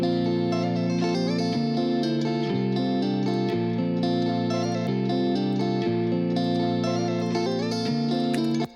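Layered synth pattern widened with a stereo imager plugin and washed in reverb, a bright chorused arpeggio over sustained chords that shift every second or so, loud and continuous with no voices before a sudden cut at the end.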